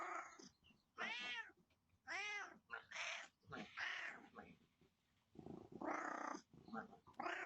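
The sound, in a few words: orange cat meowing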